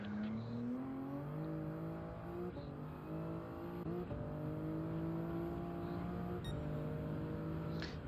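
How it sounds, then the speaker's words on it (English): A Nissan GT-R Nismo GT3 race car in Gran Turismo 7, its engine droning steadily throughout with pitch climbing through the gears and several shift drops, loud and continuous. "GTR Nismo GT3"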